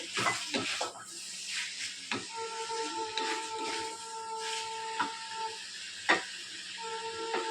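Prawns go into a pan of frying potatoes for a Bengali prawn dish, giving a quiet steady hiss and sizzle with faint clinks of a utensil against the pan.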